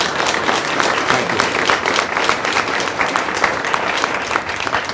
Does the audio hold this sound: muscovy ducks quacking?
no